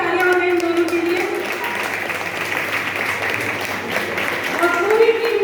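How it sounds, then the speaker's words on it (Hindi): A live audience applauds steadily for two directors of a stage play at a religious performance, a dense wash of clapping filling the whole span, with faint voices near the start and end. "एक बार जोरदार तालियां हो जाए इन दोनों के लिए"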